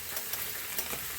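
Mushrooms fry in a pan until crisp, giving a steady close sizzle with bright crackling pops throughout and no talking.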